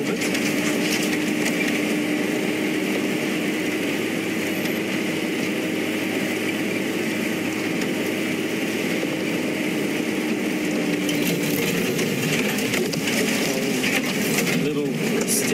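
A safari vehicle at Tingana grinds through thicket on a sunrise game drive, its engine holding a steady, loud drone with brush and rattle noise throughout.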